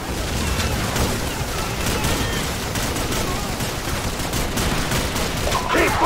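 Sustained gunfire from Call of Duty 4, with rifle and machine-gun bursts hammering at a building in a dense, continuous battlefield roar that never lets up, with occasional louder impacts mixed in.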